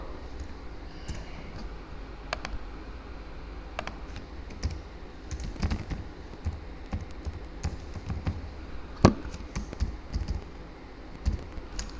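Fast, steady typing on a computer keyboard while editing text in PowerPoint, close and clear, with scattered sharper key clicks in an irregular rhythm and no voices.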